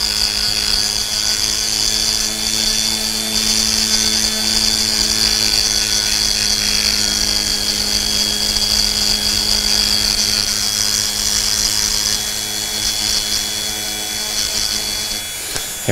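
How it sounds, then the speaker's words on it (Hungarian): A small high-pitched power tool grinds down the top of an eggshell, whining steadily and closely for about fifteen seconds with a constant tone that cuts off at the end. "Tehát ugye most a felső részét elkezdem csiszolni."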